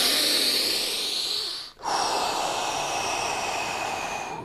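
Deep, forceful breathing during a breathing exercise: a long, loud, airy inhale with a brief pause, then a long hissing exhale, close and steady.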